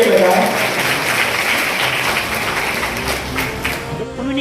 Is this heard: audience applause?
yes